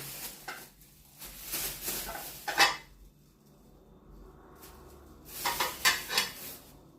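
Decorative ceramic plates, an old family heirloom set, being handled and stacked: bursts of clinking and clattering crockery come close to the microphone, with a quieter pause in the middle.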